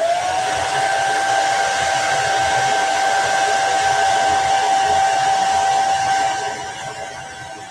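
A hair dryer blows steadily on a chalk-painted dish towel, a loud continuous whirring roar with a whining motor tone that holds for about six seconds, then drops lower as the air is pulled away.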